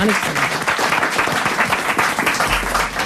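Studio audience on a French comedy panel show applauds steadily, a dense wash of clapping sustained throughout at moderate loudness, with no voices rising above it.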